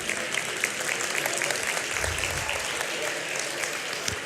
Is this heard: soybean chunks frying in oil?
no